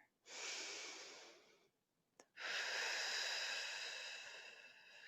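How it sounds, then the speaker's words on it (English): Slow, deep yoga breathing held in a pose, heard close and soft: a long airy exhale, a short pause, then another long drawn breath, with no talking. "we'll take just 3 breaths here"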